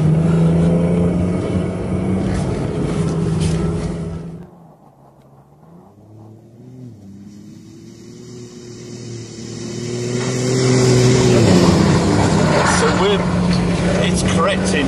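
BMW i8 hybrid sports car driving in four-wheel drive, its engine a steady low hum from inside the cabin with a dip and then a rising drone as it accelerates, under conversation between the occupants.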